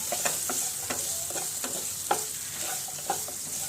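Amla chutney seasoned with salt and a little sugar sautéing in a pan, a soft continuous sizzle under regular scraping strokes of a spoon, several per second.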